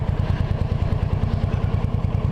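A Suzuki VLR 1800 Intruder cruiser motorcycle engine runs close by, a loud, low, lumpy pulsing beat with rapid rhythmic thumps, and no voices.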